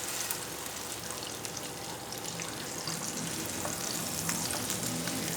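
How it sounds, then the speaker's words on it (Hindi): Besan roti frying in oil on a pan gives a steady, continuous sizzle and crackle, close and moderately loud with no talk. "तो थोड़ा सा और ऊपर ऑयल डालेंगे, या साइडों से इस तरीके से हम डाल देंगे ऑयल इसके ऊपर। अब उस साइड से पकने देंगे।"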